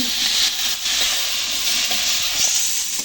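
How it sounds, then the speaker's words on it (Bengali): Salted onions fry in a pan in a home kitchen, giving a steady, bright sizzling hiss that continues evenly for about three seconds without speech. "এই পেঁয়াজটা একটু নুন দিয়ে ভেজে নিচ্ছি"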